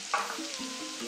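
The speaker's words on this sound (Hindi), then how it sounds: "अदरक और लहसुन भुन गया है, अब हम डालेंगे इसमें हरी मिर्ची" Green chillies frying with ginger and garlic in a pan, a soft steady sizzle with a brief louder stir near the start, close and continuous, no talking.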